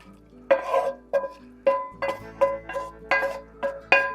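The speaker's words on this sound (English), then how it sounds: "So we're going to go ahead and add our mixture here from our pan right into the beans." Baked beans are mixed with a crispy bacon mixture poured in from a pan, a spoon scraping and knocking against the pot in about ten rhythmic strokes, close and moderately loud with no talking.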